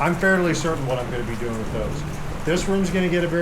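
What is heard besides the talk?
No everyday noise stands out behind the speech.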